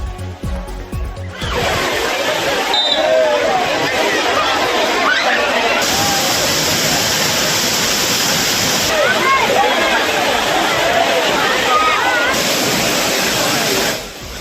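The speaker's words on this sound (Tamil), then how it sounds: "சுற்றுலா பயணிகள் அருவியில் ஆனந்தமாய் குளித்து மகிழ்ந்தனர்" Rushing water pours down the Courtallam waterfall in a loud, constant roar while tourists bathe beneath it. Crowd chatter and shouts sit faintly under the torrent throughout.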